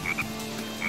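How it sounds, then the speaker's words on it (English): Frog croaks from the Sonic Heroes video game: a few short, bright croaks, two close together at the start and another near the end, fairly loud against a quiet game background with no talking. "I remember the frogs, they cause rain and make everything to grow."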